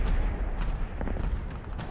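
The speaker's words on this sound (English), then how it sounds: "Many big explosions." Dense, rumbling explosions and booms from a video game battle with Stuka dive bombers and T-50 tanks roll together continuously, loud and low-heavy, with distant blasts layered on top.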